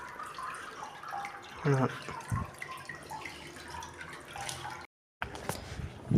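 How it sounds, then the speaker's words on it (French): A small spring of water trickles inside a stone cathedral, with faint drips and a soft flow under scattered nearby talk in a reverberant space. "t'as une petite source d'eau là qui remonte"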